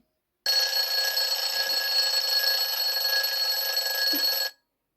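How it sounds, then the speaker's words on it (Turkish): A loud, steady electronic alarm clock ringing continuously for about four seconds, a bright buzzing tone that starts and stops abruptly. "Alarm çalıyor."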